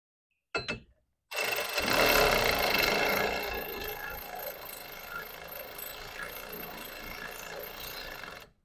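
A socket wrench ratchets while a muffler and pipe are fitted to a BMW E36 M3: a brief rattle, then a long, continuous close-up grinding of the pawl clicking through repeated turns.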